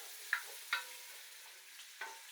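Beef curry being stirred in a pan after a splash of water is added, with a few soft scraping strokes of the spoon over a steady low sizzle of frying.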